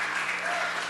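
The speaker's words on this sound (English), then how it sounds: "Let's keep the congratulatory hand applause to a minimum, please" Hands clap in brief, dense applause at a city council economic development committee meeting, a short burst of crowd clapping in an indoor chamber.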